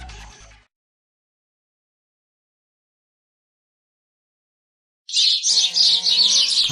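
After a long silence, a close burst of rapid, high bird chirps and tweets from a forest setting, repeated quickly in a short run.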